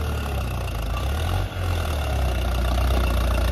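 A tractor engine runs at a steady idle on a farm, a loud, close, continuous low rumble with a brief dip midway, with no voices over it.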